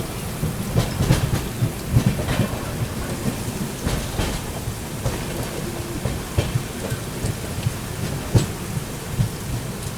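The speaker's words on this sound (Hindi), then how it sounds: "जबरदस्त बारिश हो रही है, जबरदस्त।" Heavy monsoon rain pours steadily beside a railway line, a dense hiss broken by several deep thunder rumbles, with no voices.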